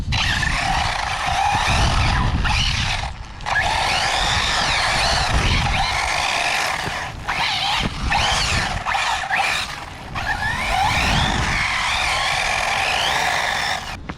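An Arrma V5 Typhon RC car on Felony Hoons wheels driving with a loud, continuous electric motor whine and long stretches of tire skidding and squealing, close by, with no talk.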